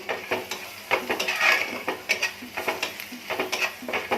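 Green chillies frying with turmeric and salt in a pan while cooking kochu shak, with a soft sizzle under repeated stirring scrapes and clinks of a utensil against the metal pan, close and fairly steady.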